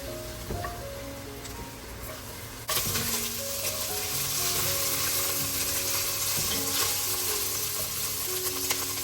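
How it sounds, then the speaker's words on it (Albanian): Small cubes of beef, 300 grams, frying in olive oil in a pot, a loud steady sizzle that jumps in intensity partway through as the meat goes in, with stirring clatter, close and continuous, no talk. "Do ta skuqim mishin."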